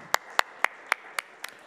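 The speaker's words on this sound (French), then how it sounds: "je pense que vous pouvez applaudir quand même nos maîtres restaurateurs" Audience applause at a trade-show stage demonstration of homemade bite-sized dishes: a few sharp, evenly spaced claps about a quarter second apart, moderately close and fairly soft, with no talking.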